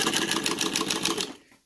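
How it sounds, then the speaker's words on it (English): A Cornely chain stitch embroidery machine running at speed, a loud, fast, rhythmic mechanical clatter lasting just over a second before stopping abruptly. "This machine, I think, is a little more noisy than the Mauser or the Singer."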